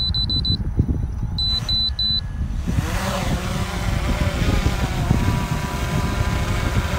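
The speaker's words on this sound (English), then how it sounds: "Gonna do an auto takeoff." An Autel Evo II Pro drone beeps several times, then its rotors spin up for an automatic takeoff into a loud, steady, close buzzing whir that holds to the end.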